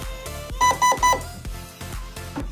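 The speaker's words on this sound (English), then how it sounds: "when you stick the battery on, it should beep at you a few times" Three quick, loud electronic beeps come from a computerized SSR15 electric airsoft rifle as its battery is connected, followed by lighter clicking and handling noise.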